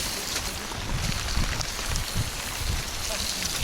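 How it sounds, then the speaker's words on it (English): Heavy rain teeming down steadily at a wild campsite in Scotland, a dense continuous patter and drumming on surfaces that fills the whole scene without pause. "It is teeming of rain"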